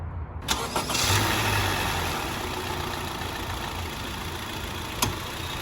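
A 2020 Honda Civic engine cranks with a sharp click and catches, then settles into a quiet, steady idle heard close by.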